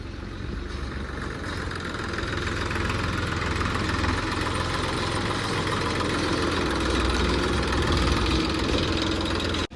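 A tractor engine runs close by with a steady, throbbing drone and a faint knocking rumble, holding a constant pace and growing slightly louder over the stretch.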